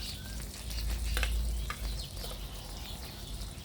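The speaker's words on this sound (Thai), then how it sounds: "ทีนี้เราจะทอดปลานะคะ ทอดปลา เอาด้านหลังลงค่ะ" Steady crackling sizzle of tilapia frying in hot oil, continuous and close, with a few sharper pops and no talking.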